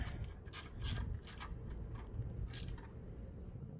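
A ratchet snugs the alternator bolts on a 1998 Lincoln Town Car with a few quick, faint clicking bursts close by against a low background hum.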